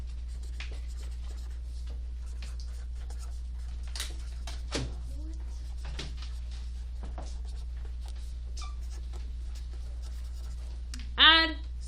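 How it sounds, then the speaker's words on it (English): Pen or pencil scratching on paper in a classroom notebook, a quick run of short, close strokes and taps with brief pauses, and a voice briefly breaking in near the end. "So we're writing this in our notebook."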